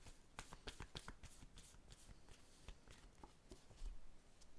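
Tarot cards shuffled and drawn at close range, a steady run of crisp riffling flicks and soft slaps through the whole span, quiet, with no talking.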